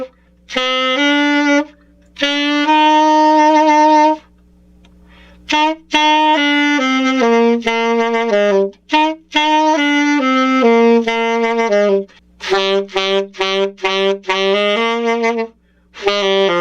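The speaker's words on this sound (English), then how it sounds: "In this one I'm going to show you how I play Joy to the World on alto saxophone." An alto saxophone plays Joy to the World in a beginner-level rendition, with clear, loud, close notes in short phrases separated by brief pauses, alone with no accompaniment.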